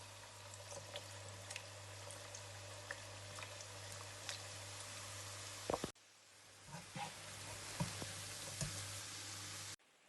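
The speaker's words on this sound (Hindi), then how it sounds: "अब इसमें हम अपने नमक पारे डालेंगे।" Namak pare dough pieces fry in hot oil, giving a steady bubbling sizzle that stays constant through the clip with brief clicks and a short break midway, heard alone without talk.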